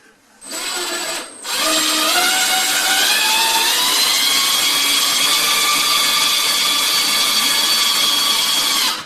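A power drill drives a screw into a closet wall for a shelf, a loud close whine that starts briefly, pauses, then runs steadily and rises slightly in pitch as the screw bites.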